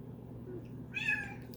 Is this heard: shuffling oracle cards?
no